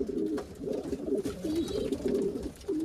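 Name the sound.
pigeons cooing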